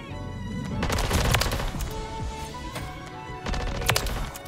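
Rapid automatic gunfire from a custom-built weapon in Call of Duty, loud close bursts crackling in two volleys with a brief lull between them, no talk.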